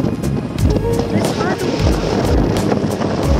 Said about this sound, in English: The wind makes this quite a bit harder.